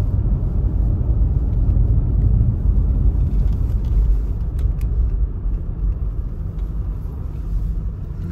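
Range Rover Sport 3.6L TDV8 HSE, a 2010 diesel SUV, driving over a bumpy road, heard from inside as a steady loud low road and engine rumble with faint light rattles and bumps throughout.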